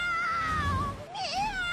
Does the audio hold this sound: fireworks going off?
no